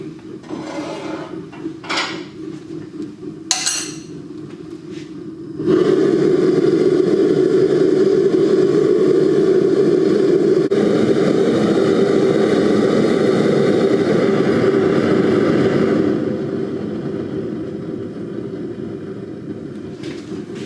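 A blacksmith's forge heating metal for tree swing hardware roars up after a few clacks and knocks, holding a loud, steady breathy rush for about ten seconds before easing down to a lower hum.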